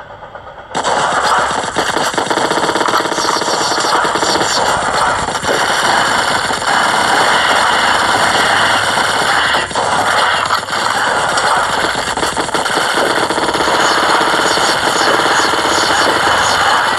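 Sustained machine-gun fire from a mobile video game, loud and continuous for most of the stretch, with dense rapid bursts layered over a steady engine-like drone and no voices.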